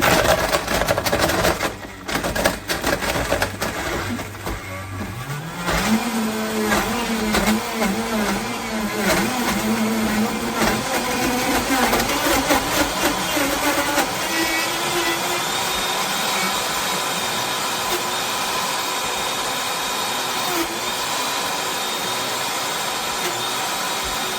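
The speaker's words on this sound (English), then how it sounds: "Now this is going to get loud. I'm going to set it on the frozen treat setting." Vitamix Ascent X4 blender running its frozen treat program on yogurt: loud motor whine that climbs in pitch and stays at a steady roar, with the churning, rattling mix underneath and no voices.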